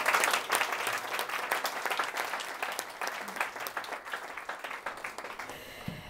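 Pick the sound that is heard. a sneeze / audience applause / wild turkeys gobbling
audience applause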